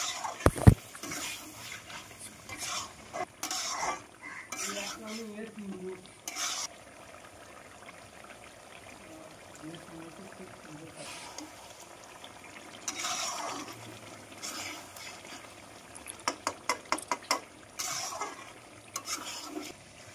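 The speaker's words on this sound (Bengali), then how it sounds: "ফ্যাটানো টক দই দেওয়ার পর 2 থেকে 3 মিনিট ভালো করে কষিয়ে নেব" Kadai chicken with whisked yogurt is stirred in a kadai, soft intermittent scraping and clinking strokes over a low simmering sizzle, quiet and close, with brief bursts of stirring toward the end.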